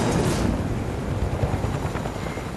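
A helicopter in Fortnite gives off a loud, steady rotor and engine roar, a dense rumbling wash that fills the whole clip with slight pulsing and no talking.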